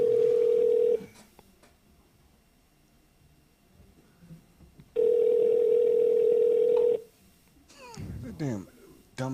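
A telephone dial tone sounds as a steady, loud, unbroken hum for about a second, stops, then returns for roughly two seconds before a quick burst of dialing tones as a prank call is placed.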